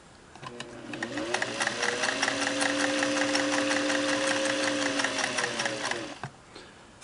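A restored Singer Model 404 straight-stitch sewing machine runs steadily for about six seconds, a fast even mechanical whir and rhythmic needle clatter close up, then stops.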